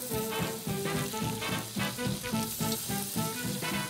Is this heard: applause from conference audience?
no